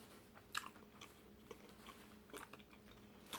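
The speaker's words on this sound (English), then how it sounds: "My mouth is about to beat my brains out chewing." Close, quiet chewing of a Burger King Double Whopper with cheese, with wet, soft bites and a few sharper crunchy clicks in an uneven rhythm, and no talking over it.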